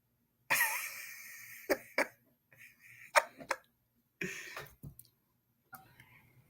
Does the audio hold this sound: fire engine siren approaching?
no